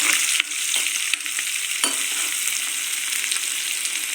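Gongura curry sizzles and fries in a pan while being stirred, a continuous bright hiss with a few scraping clicks of the spoon, close and alone.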